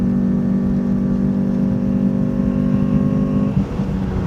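A 1.6-litre NA Mazda MX-5 at full throttle on a race track drones at a steady, strained pitch from inside the cabin, a dense continuous engine tone that dips briefly near the end.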